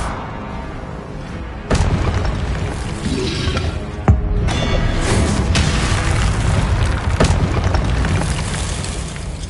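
Deep booming blasts from the Confringo spell in Hogwarts Legacy thud several times over a rumbling game soundscape, one sharp hit standing out midway among heavier explosive bursts.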